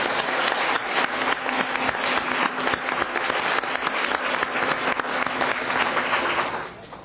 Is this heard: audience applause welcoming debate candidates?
yes